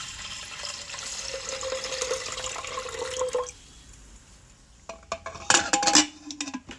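Water poured into a pressure cooker pot holding black lentils and radish, a close, rushing pour that stops midway, followed by a few clanks of metal and utensils against the pot.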